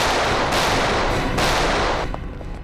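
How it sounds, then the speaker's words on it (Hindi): Sustained, dense volleys of gunfire at a firing range roll on loudly and almost without gaps, easing slightly toward the end. "Firing range."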